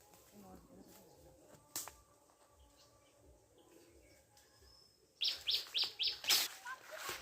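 A small bird near a bamboo house gives a few scattered chirps, then a quick run of bright, close tweets near the end, over faint background voices.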